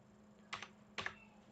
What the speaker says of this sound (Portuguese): eu tô digitando isso aí toda hora